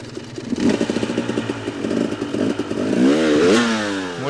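A KTM 300XC-W two-stroke dirt bike rocks back and lunges over an obstacle off-road, its engine putting in short revs and bursts, then rising into a loud, climbing rev before easing off, with clattering from the bike.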